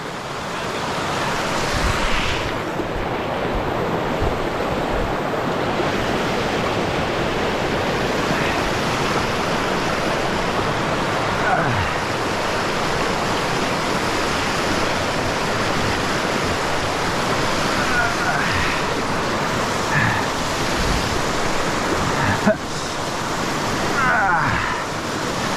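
Steady, loud rushing river water roars continuously throughout, a dense broad wash of sound with no pauses, heard from a log above the river in Arkansas.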